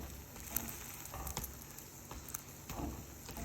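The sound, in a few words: egg frying in a pan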